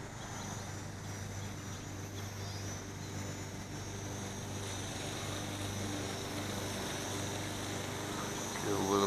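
A model aircraft's propeller drones steadily in flight, a continuous buzzing hum at moderate distance that holds level throughout, swelling slightly near the end.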